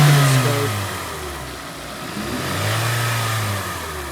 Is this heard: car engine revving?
yes